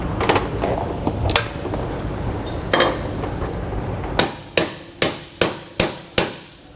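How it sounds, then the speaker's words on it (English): A hammer knocks a bronze bushing into place on a 2022 Grand Design Imagine RV: scattered softer taps, then six sharp, evenly spaced metallic strikes, loud and close, each ringing briefly. "I'm just going to hit it once or twice there just to make sure it is fully seated."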